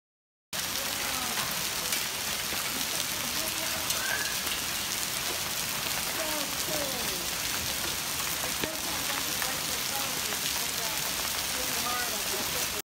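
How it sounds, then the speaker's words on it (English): Heavy hail and rain pelting streets and surfaces during a sudden, violent storm in Rome, a steady dense patter of impacts lasting throughout at close range. "sudden and violent hailstorm hit the Rome"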